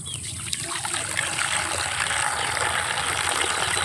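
Water pours steadily onto string bean plants in a farm garden, a continuous close trickling gush with a few small splashes.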